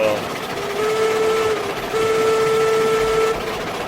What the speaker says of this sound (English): a little toot on the whistle for our first success there